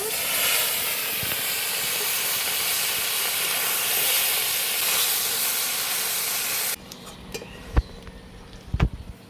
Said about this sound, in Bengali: সরষের তেল দেব। মাছগুলো ভেজে নেব।